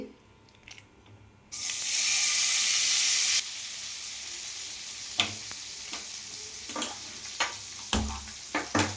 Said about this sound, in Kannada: ಇದು ಹೀಟ್ ಆಗಿದೆ, ಇದಕ್ಕೀಗ ಬಟರ್ ಹಾಕ್ತಾ ಇದ್ದೀನಿ